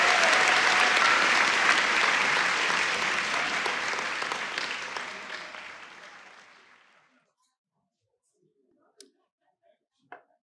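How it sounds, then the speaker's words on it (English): An audience at a Thomas Paine party gives a round of applause that starts full and loud, then thins and fades over about seven seconds into near silence, followed by a few isolated claps. "A round of applause for Thomas Paine."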